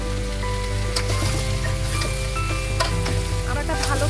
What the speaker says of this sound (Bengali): এখন টুকরো করা আমড়া দিয়ে একটু নেড়ে নিব